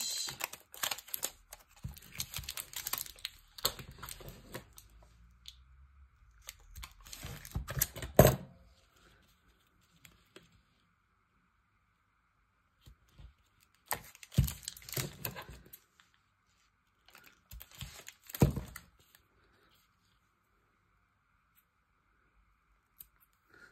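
Several short bursts of tape being pulled and ripped off a roll, a long stretch at first, then two quick separate tears after a pause.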